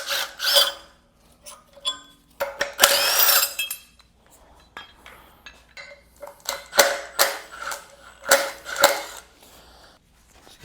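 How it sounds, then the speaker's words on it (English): Hand tools working on the alternator bracket of a 1968 Mustang engine: intermittent ratcheting, metallic clinks and scraping in short bursts separated by quiet pauses, close and fairly loud. "Let's get the alternator bracket off."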